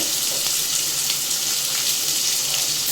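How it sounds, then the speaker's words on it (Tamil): Steady, loud sizzling of onions frying in a pan, a continuous crackling hiss with no talking. "வெங்காயத்தை நல்லா வதக்கி எடுத்துக்கலாம்."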